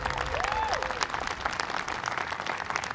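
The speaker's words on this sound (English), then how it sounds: "One more round of applause, ladies and gentlemen" A large audience applauds steadily at a Hawaiian May Day event, dense clapping that stays at an even level throughout, with a brief whistle or cheer rising early on.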